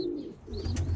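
Pigeons cooing nearby, low throaty coos with a soft higher chirp mixed in, continuous over a short stretch.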